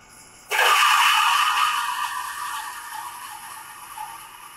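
An SK4D coffee grinder starts abruptly and grinds 18 grams of coffee beans with a loud, steady whirring buzz that slowly softens over several seconds, running alone without talk.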